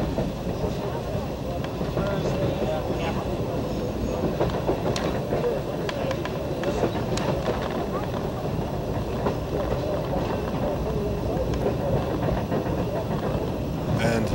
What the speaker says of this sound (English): And so ends this ride on the Cass Scenic Railroad.